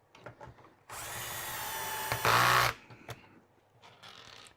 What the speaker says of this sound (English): that noise you hear at the end is the clutch engaging